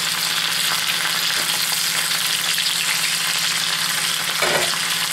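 Winter vegetables frying in bacon grease in a pan, a dense, continuous sizzle with occasional stirring scrapes and a brief louder clatter near the end.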